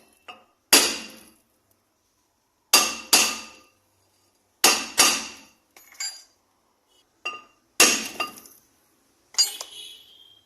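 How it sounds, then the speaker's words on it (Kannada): A hammer strikes the brake drum of a Maruti Suzuki Alto wheel during wheel bearing repair, giving sharp metallic clanks, often in quick pairs, separated by silent pauses with a faint ringing decay. "ಒಂದು ಹ್ಯಾಮರ್"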